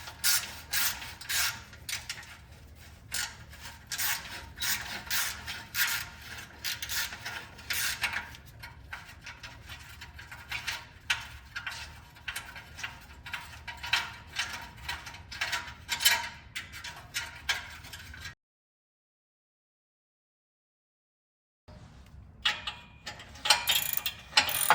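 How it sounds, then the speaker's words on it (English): Ratchet clicking steadily while removing spring-loaded oil pan bolts on a Honda D16 engine in an EK sedan, dense close ticking for long stretches, a few seconds of silence, then ratcheting resumes. "let's get the spring-loaded bolts off."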